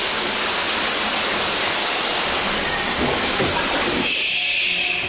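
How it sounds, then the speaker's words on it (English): A waterfall inside a ride at Blackpool Pleasure Beach rushes with a loud, dense, steady hiss that fills the whole stretch, easing slightly near the end, with no talk. "At least the waterfall's on."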